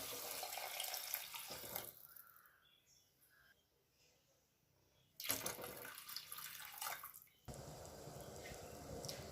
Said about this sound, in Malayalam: ഇനി 2 ഗ്ലാസ് വെള്ളം ഒഴിച്ചു കൊടുക്കാം.